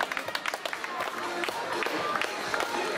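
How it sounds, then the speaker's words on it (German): Spectators applauding and cheering beside the course at the Ernst-Moritz-Arndt-Lauf 2016 running race, a steady crowd wash with scattered claps, fairly close, mixed with murmuring voices. "Einen großen Applaus hier."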